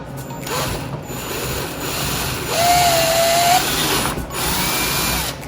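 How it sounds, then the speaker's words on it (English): A cordless drill with a 5/16 bit bores through plastic during a front camera install on a 2020 Toyota 4Runner, a steady mechanical whirring that runs the whole time with a brief higher-pitched rise partway through. "drilling through plastic is easy"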